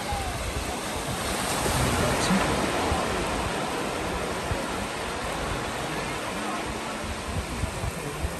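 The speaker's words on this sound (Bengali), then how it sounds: "জোয়ার আসছে, জল বাড়ছে এই সময়" Sea waves wash continuously onto a beach at Bakkhali as the tide comes in, a dense, steady roar of surf mixed with wind buffeting the microphone, with no distinct breaks between waves.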